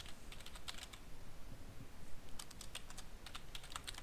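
Typing on a computer keyboard while entering a script command, heard as clusters of quick, light key clicks in short bursts with pauses between, close and fairly quiet over a faint background hiss.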